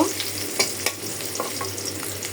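Onions sizzle and crackle steadily in a hot pan, with a few sharp clinks of a spoon stirring, close and fairly quiet.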